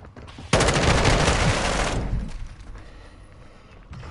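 An SMG fires a rapid, sustained burst in the Call of Duty Modern Warfare 2 beta, loud and close for about a second and a half before fading into echoing tail and ambience.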